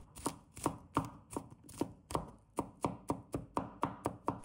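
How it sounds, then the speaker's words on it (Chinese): A knife chops crushed garlic into mince on a cutting board, with about fifteen sharp, evenly spaced knocks close by in a steady rhythm and no voices. "然后切成末"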